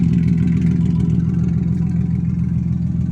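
A Ford Mustang engine running with no exhaust fitted, a loud, raw, low rumbling drone that holds steady and close throughout with a rough pulsing texture.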